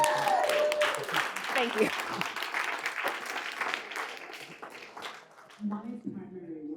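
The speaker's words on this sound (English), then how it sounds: "give me a round of applause then" An audience at a speaking engagement bursts into loud, sustained applause that gradually thins out, and a voice speaks briefly near the end.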